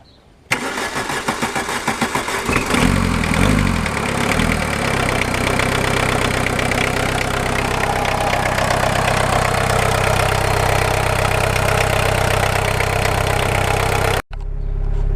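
A 1.6 diesel VW Golf cranks over with a few seconds of starter churn, catches, and settles into a loud, steady, clattering idle close by before cutting off abruptly at the end.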